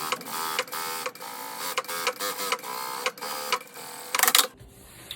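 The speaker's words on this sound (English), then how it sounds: "I'll stitch that left side of the Ripplefold tape" A sewing machine stitches Ripplefold tape onto a drapery header with buckram, a fast rattling needle clatter in bursts with brief pauses, ending in a louder flurry before it stops.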